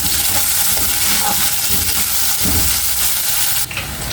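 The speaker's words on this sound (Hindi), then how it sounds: "जब ये अभी मैं इसको थोड़ा पिंक का फ्राई करूँगी।" A chopped onion frying in a pan until pink, a loud, dense, continuous sizzle with low stirring rumbles, cutting off abruptly near the end.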